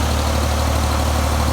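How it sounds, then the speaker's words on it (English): A grain auger runs steadily while filling a wheat bin on a farm, its motor giving a loud, constant low drone with no break and no talk. "Got the auger going"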